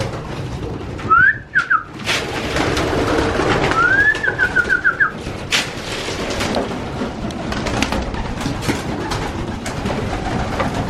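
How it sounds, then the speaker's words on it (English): Young pigeons in a loft, soft cooing and whistling calls in short bursts over a steady rustle of wings and movement, close by with no talking. "These are all the young birds in here."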